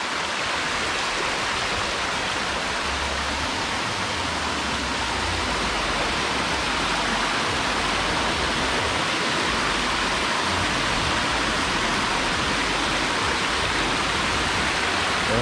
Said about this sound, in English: this is above the Annadale waterfall.